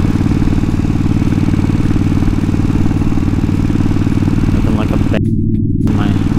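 A cafe style twin motorcycle roars loudly and steadily up close during a burnout, its engine note holding a rough, even rumble for several seconds.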